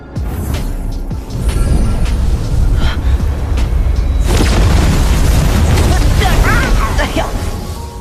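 A booming blast as a magic carpet is activated with mental and Yuan energy, a dense roaring rumble that swells after the first seconds and stays loud and sustained throughout.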